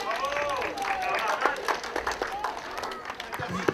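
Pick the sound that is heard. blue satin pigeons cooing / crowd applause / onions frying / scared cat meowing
crowd applause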